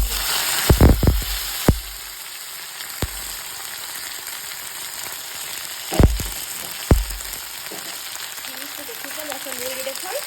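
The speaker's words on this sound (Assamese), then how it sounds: "এতিয়া আমি ভালদৰে ভাজি ল'ম।" Herb leaves fry in hot oil in a wok with a steady close sizzle and hiss, broken by a few sharp clinks of a utensil, and a voice speaks briefly toward the end.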